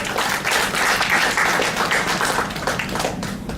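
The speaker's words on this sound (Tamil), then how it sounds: "மீண்டும் ஒரு பலத்த கைத்தட்டல் ஐயா அவர்களுக்கு." An audience applauds at a Tamil-language talk, a dense, loud wash of clapping that carries on steadily throughout with no voice over it.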